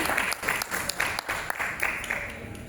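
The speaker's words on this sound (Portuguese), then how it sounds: "Os aplausos à professora." An event audience applauds a biology professor being introduced, with a brisk, uneven burst of clapping and a few voices mixed in.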